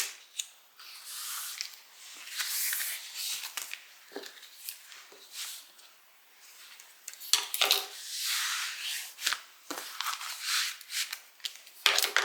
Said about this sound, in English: I'm just going to clip that with scissors.